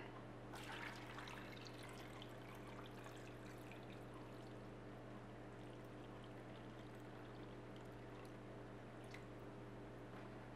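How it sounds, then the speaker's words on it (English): Cold water poured from a vessel over duck stock ingredients (duck bones, thyme, garlic cloves and peppercorns) in a pot, a steady close splashing pour lasting several seconds over a low background hum. "You want to top that all off with cold water."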